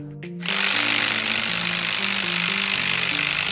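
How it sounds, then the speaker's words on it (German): Pneumatic impact wrench hammering on a Torx 60 bolt on the rear axle of a Mercedes W124, a loud, continuous close-up rattle that starts abruptly after a short lead-in. "Ich werde mit den beiden Schrauben beginnen, Torx 60."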